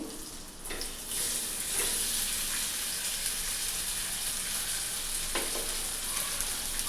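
Potatoes frying in a pan with a pinch of salt, a steady close sizzle with a few brief clatters of stirring near the start and again later, no voices.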